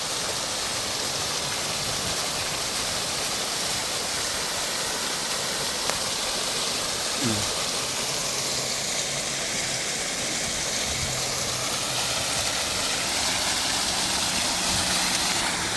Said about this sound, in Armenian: ոնց որ ջրվեժ լինի